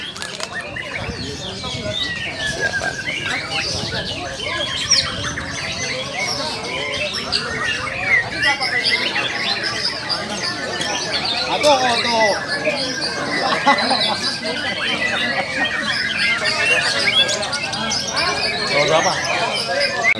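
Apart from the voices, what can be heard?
murai batu (white-rumped shama) songbirds singing at a bird contest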